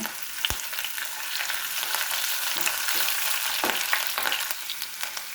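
Green chillies frying in oil on a low flame for a mango and carrot pickle, a dense close crackling sizzle with a sharp pop near the start and a few soft stirring knocks, no voices.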